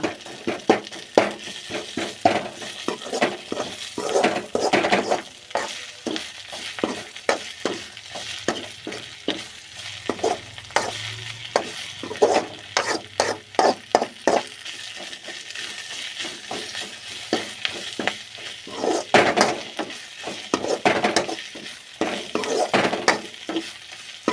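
Drumstick leaves sauté in sesame oil in a pan, giving a steady close sizzle broken by repeated scraping stir strokes and light clinks of the spoon against the metal, with no voices.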